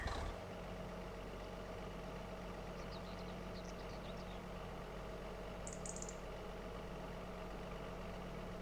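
Steady low rumble of a tractor engine idling in Farming Simulator 25, a constant even drone with faint clinks, no talking.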